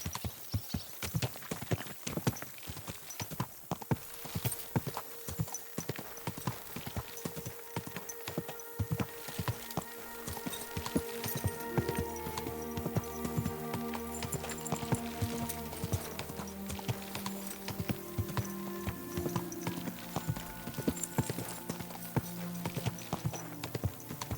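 Horse hooves in Kingdom Come: Deliverance 2 clip-clop in a steady, continuous rhythm throughout, joined midway by sustained musical tones.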